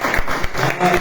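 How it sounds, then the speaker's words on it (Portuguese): A church congregation applauds during a morning service, a brief burst of dense clapping with voices mixed in underneath. "aplaudam o Senhor bem forte nessa manhã"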